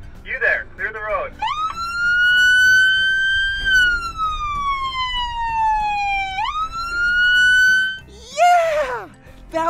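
A fire truck's loudspeaker siren sounds loud and close, one long sustained wail that slowly falls and then sweeps back up, with short warbling bursts at the start and end and a voice speaking before it.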